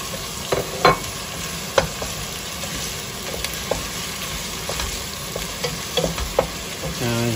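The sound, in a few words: onion frying and sizzling in oil for palabok sauce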